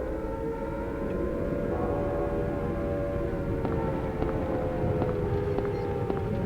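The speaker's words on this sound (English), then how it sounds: "an eerie wail of sirens cuts through the silence" Eerie civil-defense sirens wail from a distance through the empty streets of Silent Hill in the video game, a steady droning rise over a dense, rumbling atmospheric bed with no voices.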